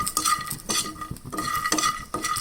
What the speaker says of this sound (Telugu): ఈ పల్లీలను కూడా వేయించుకోవాలి.